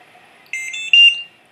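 A loud electronic alarm from a BiPAP machine powering on sounds in short high-pitched beeping bursts, shrill and close, rising in volume before cutting off.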